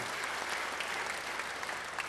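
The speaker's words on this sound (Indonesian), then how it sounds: "Beri tepuk tangan yang baik bagi dia" A church congregation breaks into steady, dense applause during a worship service, a full and even clatter of many hands that holds at one level throughout with no voices above it.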